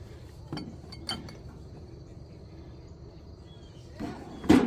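Pieces of carnival glass at an estate sale clink faintly as they are handled, with a few soft isolated taps and one sharper clink near the end over a quiet room.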